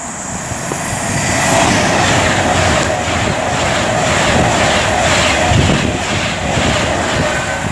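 A Pendolino passenger express rushes through Milton Keynes Central on the West Coast Main Line, a loud, sustained roaring whoosh of wheels and air that swells and holds for several seconds, with no talk.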